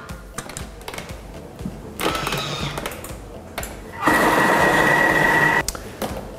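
A Thermomix food processor blends sheep's cheese with milk, first a short whirring burst and then a louder, steady high-pitched motor whine for about a second and a half before stopping.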